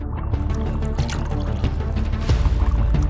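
Liquid poured from a trick assassin's teapot into a glass makes a steady, fairly loud splashing gurgle that runs for about three seconds and swells slightly near the end.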